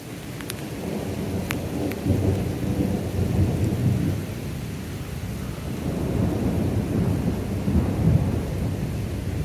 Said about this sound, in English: you can hear the thunder going